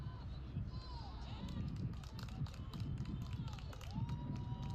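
A crowd at a Furman versus Wofford soccer match, heard as a low steady murmur with scattered shouts and whistles, distant and fairly faint, with voices mixed in.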